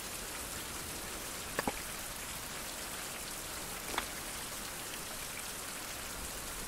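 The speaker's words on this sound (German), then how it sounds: "Und es regnet ja noch weiter." Steady rain falling in the survival game Survival: Fountain of Youth, a dense even hiss of raindrops on surfaces with a couple of faint clicks, with no talking.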